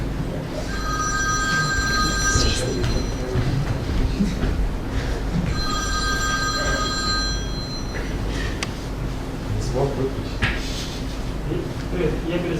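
A telephone rings in bursts during a Russian-language programming lecture, two long trilling rings over steady room noise, with someone talking underneath.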